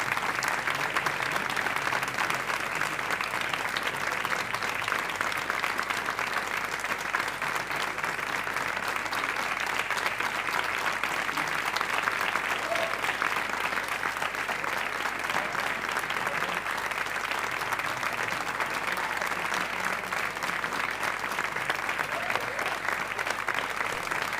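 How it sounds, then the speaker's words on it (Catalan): A concert audience applauds a big band, a dense, steady wash of many hands clapping that holds at an even level throughout without letting up. "Fort aplaudiment per a tots."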